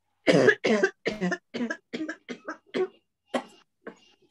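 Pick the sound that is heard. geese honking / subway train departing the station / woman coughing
woman coughing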